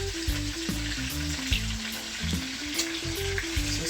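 Jamaican devil and horseback fry in hot oil, a steady bright sizzle with soft crackles, close and continuous while faint background music plays underneath.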